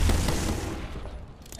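Gunfire in a video game: a loud, booming burst of shots right at the start that quickly tapers into quieter rattling.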